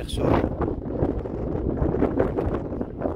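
Strong wind gusts by the sea cliffs at Peniche, Portugal, buffet the microphone, a loud, rough roar with rustling bursts and no talking.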